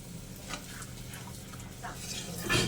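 Whole spices sizzle gently in hot oil with turmeric and Kashmiri chili powder added for a Pabda fish curry, a soft crackle with brief stirring scrapes and a sharper hiss near the end.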